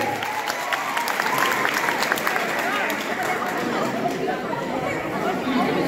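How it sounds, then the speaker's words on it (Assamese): Audience applause at a Dhakuakhana College week prize ceremony as the mathematics department team receives an award: loud, sustained, crackling clapping from a large crowd mixed with chatter throughout. "ডাঙৰকৈ হাত চাপৰি হ'ব লাগে।"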